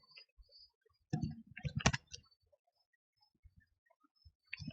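A computer keyboard is typed on in a quiet room, with a short cluster of quick clicks, a few scattered taps, and another brief burst at the end.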